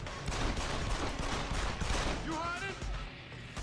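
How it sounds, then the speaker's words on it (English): Enemy gunfire in Deus Ex: Human Revolution, a dense, continuous rattle of rapid shots at moderate loudness, with a voice briefly audible over the clatter. "You guys are shooting me."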